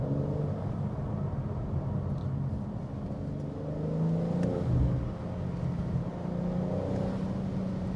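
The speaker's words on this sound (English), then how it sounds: "let's listen to the burbles of the Akrapovic exhaust" Warmed-up 2024 BMW M4 Competition with an Akrapovic exhaust burbling at idle, a deep, uneven rumble that swells briefly in the middle, close and loud with no talking.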